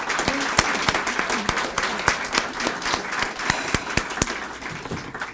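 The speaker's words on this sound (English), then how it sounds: "Let's give them another round of applause." A modest audience at the Carroll Nonprofit Center's 10th anniversary celebration claps for musicians, with individual sharp claps standing out clearly over a softer, steady patter.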